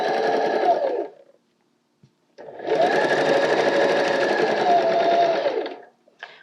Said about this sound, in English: I'm just going to roughly zigzag stitch, and quite a large zigzag, just around the edges to hold the two pieces together